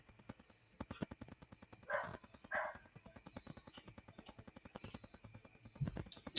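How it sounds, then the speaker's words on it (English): Backyard dog barking outside, a few muffled bursts of barks set against a steady ticking rhythm indoors, fairly faint and distant. "that silly dog in the backyard. It's not my dog barking."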